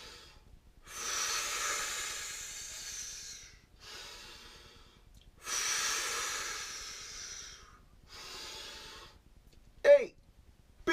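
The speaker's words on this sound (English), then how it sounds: "Hyperventilate." Forceful hyperventilating breaths in a singing breathing exercise: long hissy inhales and exhales alternating in a steady cycle, close to the mic, ending with a brief vocal sound.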